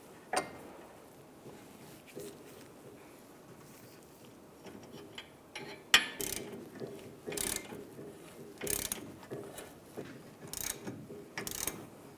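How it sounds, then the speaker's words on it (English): A ratchet wrench tightening a bolt to draw a front wheel bearing into the hub of a 1998-2010 Volkswagen Beetle, with quiet repeated clicking bursts that grow louder and more frequent toward the end. "we'll just tighten this up, and it's going to pull the bearing through"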